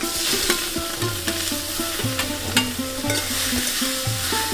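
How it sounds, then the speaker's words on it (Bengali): Leafy greens with a little ginger fry in oil, a constant crackling sizzle broken by repeated rhythmic scrapes and knocks of a spatula stirring the pan up close. "তেলে আমি শাকটা দিয়ে দিলাম।"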